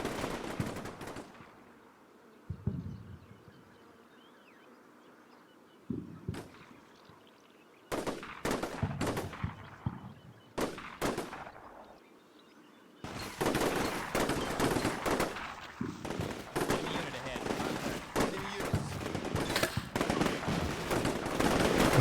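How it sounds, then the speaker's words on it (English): Gunfire in the video game Combat Mission Shock Force 2: scattered single shots and short bursts at first, then sustained heavy machine-gun fire and overlapping volleys that grow louder and denser toward the end. "And of course, more and more bullets flying in the process."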